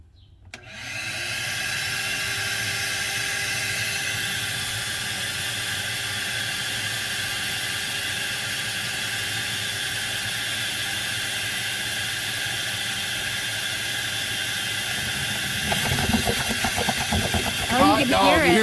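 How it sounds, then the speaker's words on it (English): A vacuum unit pulls oil out of a Detroit truck engine, its steady loud whirring hiss starting up and running unbroken, with gurgling and louder rough noise near the end. "I need to go turn on my vacuum cleaner"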